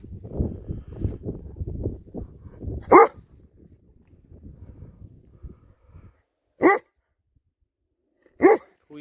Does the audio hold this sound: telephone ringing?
no